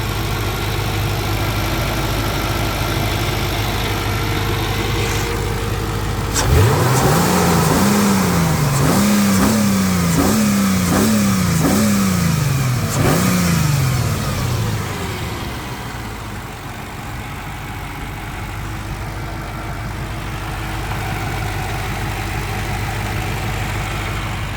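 A 1999 Mercedes C43 AMG with about 201k miles cranks and catches, then revs in a run of repeated rising and falling throttle blips before dropping back to a steady idle, loud and close.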